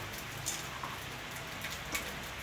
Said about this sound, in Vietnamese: Mưa gác ở ngoài trong gói hủ tiếu ăn.